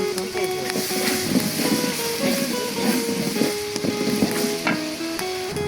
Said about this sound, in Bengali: পেঁয়াজ বাটা রসুন বাটা এখন ভালোভাবে কষিয়ে নেব